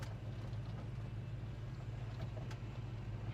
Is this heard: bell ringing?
no